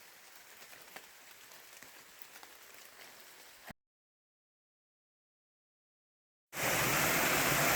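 Steady rain falls in a semi-rainforest along a hiking trail, a dense patter of drops with faint irregular ticks, then drops out to silence before returning much louder and closer.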